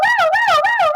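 A teacher's voice imitates an ambulance siren, a loud, close wailing tone that sweeps up and down in rapid repeated cycles, heard alone for about a second.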